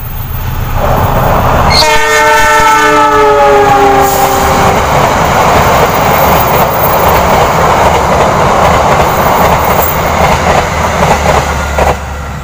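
KA Lodaya passenger train from Bandung, hauled by a locomotive, passes close by on the southern line in East Priangan, sounding a loud sustained horn before a steady rumble of rolling cars fills the rest of the pass.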